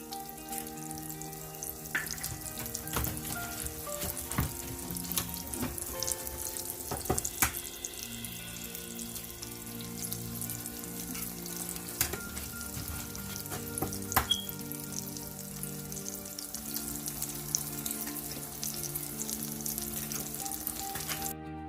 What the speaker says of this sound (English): It's time to add our eggs.